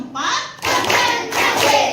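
Schoolchildren in a classroom clap out a counted clapping pattern in short bursts, their claps mixed with group chanting voices at close range.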